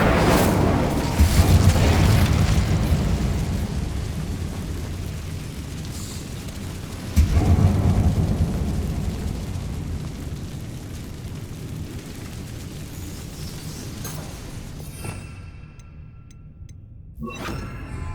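Fire and blasting spell effects from the video game Hogwarts Legacy: loud, deep booms near the start and again partway through, each rolling off into a long rumbling decay before the sound briefly cuts out near the end.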